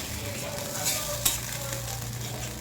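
Frying in a pan on low heat while making doi katla, a steady hissing sizzle close by with one brief clink of utensil partway through.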